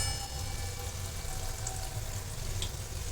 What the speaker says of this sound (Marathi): मिडियम गॅसवरतीच भाजी आपण तळून घेणार आहोत.